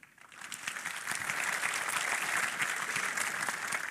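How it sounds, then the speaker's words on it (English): Audience applause at a tech conference session introducing a speaker, a dense broadband clatter of many hands that swells in the first half-second and then holds steady and loud throughout. "please join me in a big round of applause for Stephen White"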